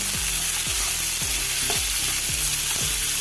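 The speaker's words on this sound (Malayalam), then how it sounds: "ഇനി നാല് സവോള നൈസായി അരിഞ്ഞ് വെച്ച് കൊടുക്കാം ഇത് നല്ലപോലെ ഒന്ന് ഇളക്കി കൊടുക്കാം" Finely chopped onions sizzle steadily in a pan for a tomato chutney, with a spoon scraping through them in a regular stroke about twice a second, close and fairly loud with no talking.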